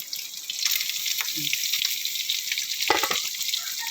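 Smoked fish, garlic, ginger and onion sautéing in a pan: a loud, steady close sizzle runs throughout, broken by a couple of brief scraping and knocking stir sounds, with no talking.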